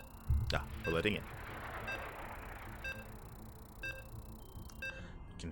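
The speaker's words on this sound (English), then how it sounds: "You can hear the beeps." Several short, evenly spaced electronic beeps from a StarCraft 2 tournament match ring out over a crowd-like background murmur, each a bright, clean tone.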